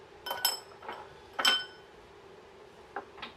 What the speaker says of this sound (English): Let's put a couple of ice cubes in here